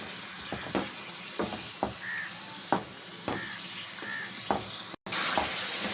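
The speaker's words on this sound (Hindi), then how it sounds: "आपने कम से कम इसको 10 मिनट इसमें फ्राई करना है तेल में।" Mutton frying in oil in a kadai sizzles steadily while a spoon scrapes the pan in intermittent strokes, with a brief cut near the end.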